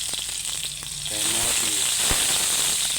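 Garlic and onion frying in oil as the first step of Filipino ampalaya with egg, a loud steady close sizzle that swells partway through, with a few clinks of a utensil against the pan.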